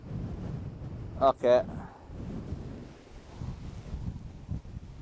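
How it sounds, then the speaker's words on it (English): Gusty wind buffets a microphone at a seaside spot where waves are being photographed, a low continuous rumble throughout, briefly topped by a couple of sharp clicks and a short spoken word. "The wind is blowing me around."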